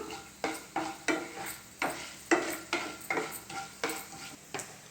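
Coriander seeds frying and being stirred in a pan, giving a rhythmic series of scraping strokes about twice a second over a steady low sizzle, close and moderately loud with no talk.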